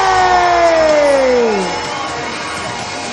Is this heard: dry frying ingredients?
no